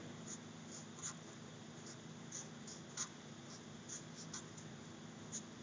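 Pencil sketching on paper: a faint, steady scratchy rasp with soft rhythmic strokes about once a second, close by and quiet.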